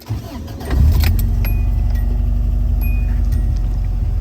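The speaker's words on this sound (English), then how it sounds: "Hear that electronic fuel pump in the back?" A 1981 Subaru GL with a swapped EJ22 engine cranks and fires up, its electric fuel pump briefly whirring at the rear before the engine catches and settles into a loud, steady, close idle.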